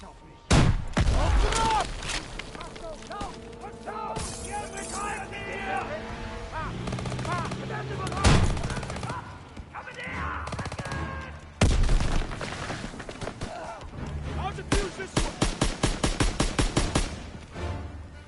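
Gunfire in Call of Duty WWII: sharp close shots and heavy bursts from rifles and a machine gun over a busy battle backdrop, ending in a rapid run of evenly spaced shots, with voices speaking during the fight.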